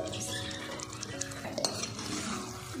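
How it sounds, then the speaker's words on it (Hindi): Paneer tipped into a kadai pan, soft clattering and stirring scrapes with faint sizzling, quiet and close, brief metallic knocks in the middle. "मैंने पूरी पनीर डाल दी"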